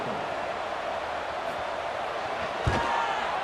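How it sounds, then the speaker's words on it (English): Crowd noise in the CFB 26 college football video game, a steady buzzing stadium roar after a score with a brief thump partway through, continuous and fairly loud. "this crowd is buzzing after that last score"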